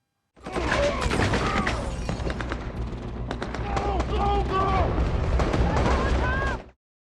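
Rapid bursts of gunfire crackle loudly with sharp, shattering impacts and ringing tones, a dense action-film firefight of a gunman shooting at police, cutting off abruptly at the end.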